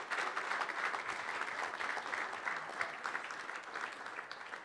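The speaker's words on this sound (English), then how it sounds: "So join me in giving her a round of applause." An audience at a conference event claps in a steady, fairly faint round of applause that holds evenly throughout, with no voices on top.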